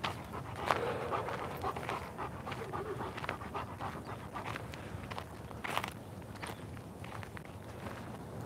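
A giant schnauzer walks on a leash with rhythmic quick panting and soft footsteps throughout, heard fairly close but at low level, with a few brief jingles or clicks.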